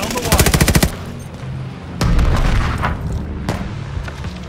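Call of Duty: Vanguard multiplayer combat: a loud rapid burst of automatic gunfire opens, followed by heavy booming blasts and scattered shots and explosions from the incoming bombing run.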